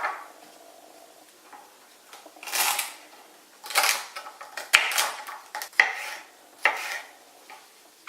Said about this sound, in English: So I'm going to start chopping.